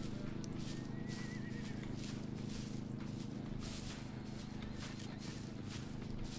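A horse in the survival video game SCUM calls out faintly over steady hoof clip-clops and a low background hum, with soft shuffling sounds throughout.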